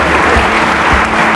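Applause for a newly married couple at a wedding ceremony, a dense, steady crowd clapping filling the whole moment without a break.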